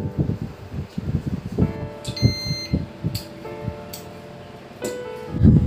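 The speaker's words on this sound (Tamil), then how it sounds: "டைமர் செட் பண்ண பிறகு 10 நிமிஷத்துக்கு அப்புறமா இப்படி தான் சவுண்டு கொடுக்கும்." Electronic beeps from a RoboCook cooker timer after chicken gravy cooks, several short tonal beeps spaced apart over kitchen clatter and rustling, moderately loud and close.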